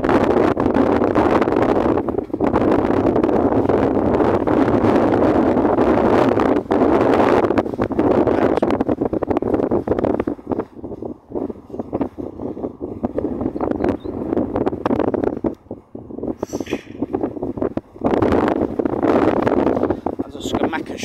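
Strong wind buffeting outdoors at a windy game of bowls, heavy gusty rumble battering the microphone almost continuously, easing in places, with voices talking faintly underneath.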